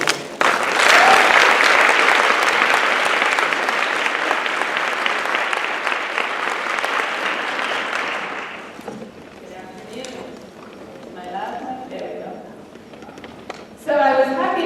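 Loud, sustained applause from a large conference keynote crowd for about nine seconds, fading out into a speaking voice and a few scattered sounds.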